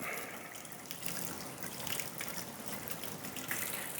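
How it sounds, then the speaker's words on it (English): Tap water runs steadily onto motorcycle helmet liner pads from a Caberg Flyon helmet, a continuous wet splashing gush heard up close and alone, with no talking. "So you're going to want to get these very, very wet."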